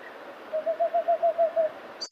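A whiskered screech owl gives a rapid series of about eight evenly spaced short hoots, steady and moderately loud, like a tapped-out code.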